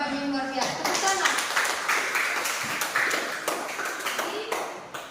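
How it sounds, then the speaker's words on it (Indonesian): Classroom applause from students in a Christian religious education class, a burst of quick clapping that is fairly close and lasts several seconds, with tapping and some voices mixed in. "Tepuk tangan."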